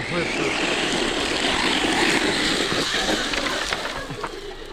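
A Losi Tenacity 1/10-scale RC truck tears across terrain with its motor at full throttle, a loud, broadband whine and roar that holds steady, then eases slightly toward the end, with water-like splashing mixed in.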